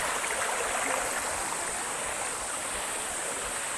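Steady rushing flow of a stream being waded through on a monsoon fort trek, a continuous close hiss of moving water with no voices.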